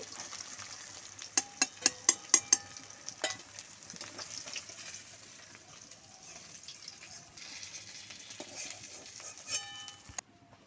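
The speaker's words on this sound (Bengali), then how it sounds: "এই পাশটা খুব ভালো করে ভেজে নেব" Pangas fish fillets frying in a pan, a steady close sizzle with a burst of sharp metallic clinks and taps of a utensil against the pan early on, then continuous hiss.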